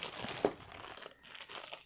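A large plastic packaging bag being handled while unpacking computer parts crinkles and rustles close by in quick, irregular bursts, with one sharper crackle early on.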